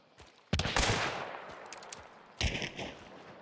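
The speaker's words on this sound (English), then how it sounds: "There's shots behind us." Gunfire in the game Hunt Showdown coming from behind the player: a loud burst with echoing decay, then a second blast about two seconds later, both crisp and fairly close.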